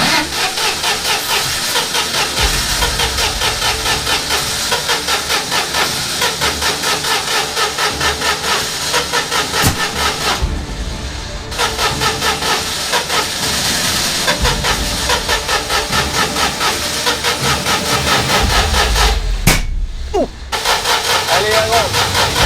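A Citroën 2CV's small engine is cranked at full throttle with no choke, giving a loud, continuous rhythmic churning that stops briefly twice. Voices talk over it.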